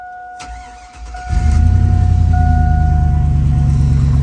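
A Chevrolet SS car engine cranks and catches, then settles into a loud, steady rumbling idle close by, with a faint tone beneath it.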